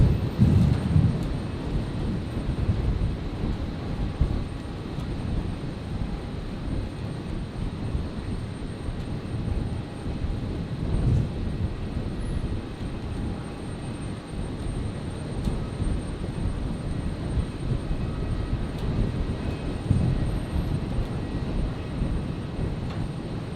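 An aircraft departs Brisbane airport at night during a storm, its distant low rumble steady for over twenty seconds alongside faint broadband storm noise, with no talking.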